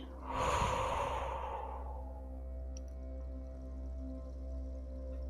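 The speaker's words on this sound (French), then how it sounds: "Juste inspirez et soufflez." A single slow, deep breath close to the microphone, a soft airy inhale rising then fading into a long quiet exhale over a low hum.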